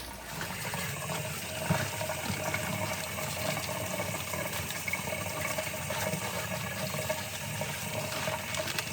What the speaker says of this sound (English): I'm going to start by washing my lettuce first.